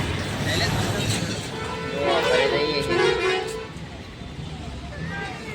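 An auto rickshaw rattles through busy street traffic as car horns toot around it, the engine noise loud and close while a person talks over the din.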